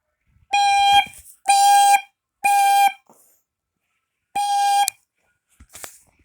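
Smoke alarm made in 1992 being tested, sounding four loud, piercing electronic beeps of about half a second each in a steady rhythm, with a pause before the last beep and faint handling noises between.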